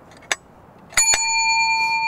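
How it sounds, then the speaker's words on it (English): An air rifle pellet strikes a metal plate on a wooden DIY target, giving a couple of sharp knocks, then a reception bell dings once with a clear ring that lingers, close and alone. "it will hit the little button on the top of the reception bell"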